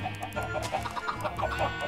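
A swarm of Minecraft video-game chickens clucks in quick, overlapping bursts, a busy, fairly soft flock sound with no talking.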